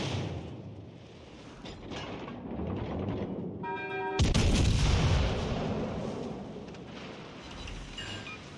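A naval gun salvo booms out in World of Warships Legends, a loud broadband blast near the middle that rolls off into a rumbling tail over a steady game background.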